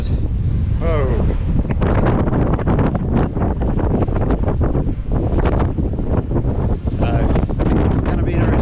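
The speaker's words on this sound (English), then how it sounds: "wind is howling down here" Strong wind roars and buffets a microphone beside the water, a loud, continuous rushing with gusty swells and rumble throughout, with no talk over it.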